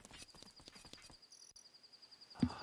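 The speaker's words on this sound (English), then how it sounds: "There's our horsey again." A horse in the Ocarina of Time video game clip-clops in a quick run of hoofbeats, then a short neigh bursts out near the end, all fairly quiet and with no talk over it.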